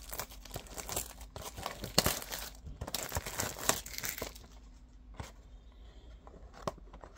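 A 2023 Topps Chrome Update Breaker's Delight trading card box is torn and crinkled open, with bursts of close ripping cardboard and plastic wrap crinkling, then quieter rustles and a few taps.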